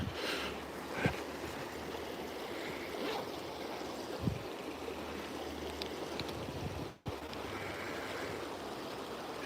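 A winter trout stream in New Jersey flows in a steady, soft wash of running water, with a few faint knocks and one brief dropout.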